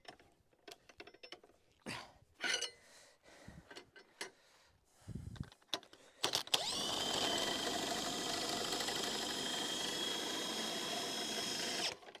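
Cordless power drill driving screws during a garden office build, a few short bursts and knocks at first, then one long steady whir of the drill running continuously for about six seconds, close by with no talk.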